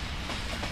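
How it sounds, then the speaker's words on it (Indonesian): A train moving in a horror video game about a man-eating, spider-legged train, giving a dense, steady rumble of rolling wheels and rail clatter that fills the whole moment. "Keretanya sudah berjalan."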